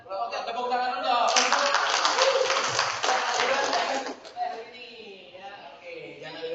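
A group of people in a training session claps hands together, a dense burst of applause that swells after the first second, holds for about three seconds, then thins out as voices and chatter carry on underneath.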